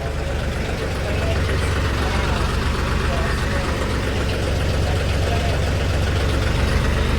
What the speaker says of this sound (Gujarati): અમારું ટ્રેક્ટર હલવી રહ્યું છે માટી ભરેલું